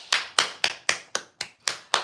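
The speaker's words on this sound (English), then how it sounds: "Let me clap it up." A single person claps their hands seven times at a steady, slightly uneven pace, each sharp close-up clap ringing briefly before the next, with silence between them.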